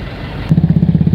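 A motorcycle engine on a wet, mossy village road near a flooded river fires up after a brief quiet hum, then settles into a loud, close, rapid putt-putt pulse.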